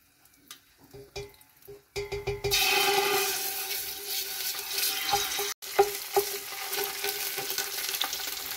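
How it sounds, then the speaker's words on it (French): Tomato paste hits hot reused frying oil for Senegalese thieboudienne, a loud steady sizzle that jumps up after a couple of quiet seconds and keeps crackling, with stirring and scraping sounds through it. "je vais laisser l'huile bien chauffer avant de rajouter la tomate concentrée"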